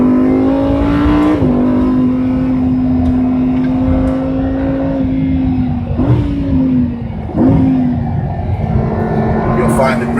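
A race car holds a steady engine drone on the Monticello track, with brief dips and rises as gears change through the corners, loud and close, under a voice giving driving instructions.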